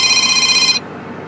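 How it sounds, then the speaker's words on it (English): A telephone rings with an incoming call from the caller's mother, a steady electronic ringtone sounding clearly for most of a second before cutting off abruptly, leaving low background hum. "And here's your mother calling."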